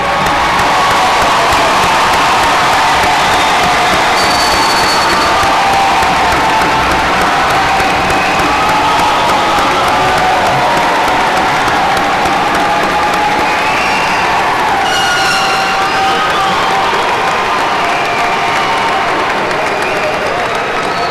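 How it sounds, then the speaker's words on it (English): Graduation crowd honoring the class of 2018 with loud sustained applause, cheers and whoops rising through the clapping, a large audience filling the space for the whole stretch. "join me in honoring the class of 2018 with a big round of applause"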